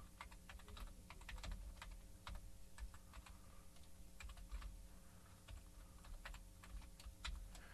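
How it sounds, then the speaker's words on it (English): Steady typing on a computer keyboard, a fast irregular run of soft key clicks close by, continuing throughout with no talk. "I'm going to type average temp minus 30F."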